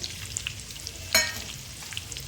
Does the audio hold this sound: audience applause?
no